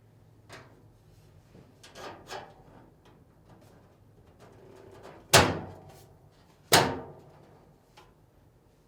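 Upper frame plate being fitted onto a Samsung dryer, with soft handling rustles and light taps building to two loud sharp metallic knocks as the panel seats into place, close and indoors.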